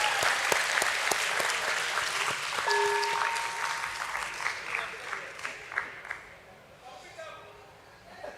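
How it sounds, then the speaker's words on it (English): Audience at a stock exchange listing ceremony applauding and cheering, loud dense clapping that gradually thins and fades, with voices mixed in. "let us all cheer one more time"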